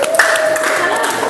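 Classroom applause after a group presentation, a steady patter of clapping from many students held briefly at even loudness.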